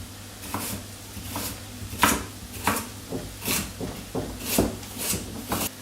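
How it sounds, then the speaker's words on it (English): A knife slices carrots on a board in a home kitchen, about a dozen crisp, fairly evenly spaced chops at close range, each a short tap, with no talking. "So I'm going to chop up these carrots."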